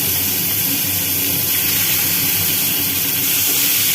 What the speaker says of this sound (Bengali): এটাকে হালকা করে ভেজে নেব।